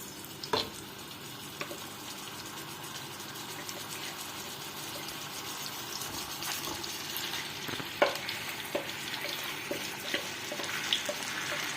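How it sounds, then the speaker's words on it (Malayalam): Chicken pieces crisping on both sides in sunflower oil in a pan sizzle and crackle steadily, with a few sharp clicks and scrapes from utensils, no talking. "പാൻ അടുപ്പത്ത് വെച്ച് എണ്ണ ഒഴിച്ചിട്ട് ഈ കുക്കറിൽ നിന്ന് ഈ ചിക്കൻ ഇങ്ങനെ അതിലേക്ക് എടുത്ത് വെച്ച് നന്നായിട്ട് 2 വശവും മൊരിച്ച് നമുക്കെടുക്കാം"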